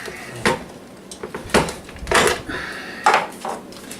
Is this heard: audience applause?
no